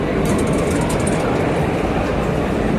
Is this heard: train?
yes